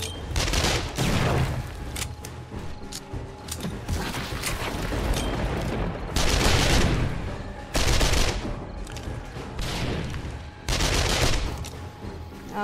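Loud, repeated blasts and gunfire from a 7 Days to Die blood-moon horde fight, with grenade explosions bursting every couple of seconds among rapid shots, near and dense for the whole stretch.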